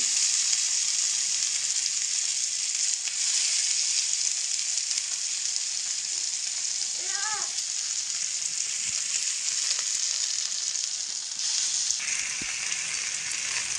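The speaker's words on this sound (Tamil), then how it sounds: "எண்ணெய் ஊற்றிட்டு அதில் ஒரு நாலு கொத்து கருவேப்பிலை வச்சுக்கோங்க அப்புறம் மீன் எடுத்து வச்சுக்கலாம்" Sangara fish sizzle and fry steadily in hot oil with curry leaves, a constant close crackling hiss with a few faint clinks, no talking.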